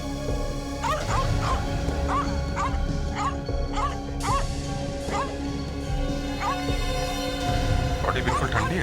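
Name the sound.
distressed dog barking and whimpering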